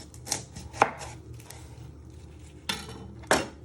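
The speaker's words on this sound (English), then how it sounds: "And you then chop both of your ends off." A kitchen knife chops the ends off a halved onion on a cutting board with four sharp, close knocks: two quick ones, a pause, then two more, and no talking.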